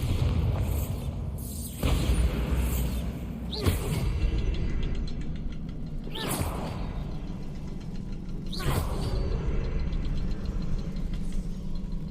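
A Bombarda spell exploding in the video game Hogwarts Legacy, heard as several sharp, booming blasts over a continuous low rumble of game ambience, loud and close.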